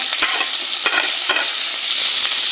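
Capsicum and tomato lightly frying in oil in a pan, a loud continuous sizzle broken by a few stirring scrapes, close and without speech.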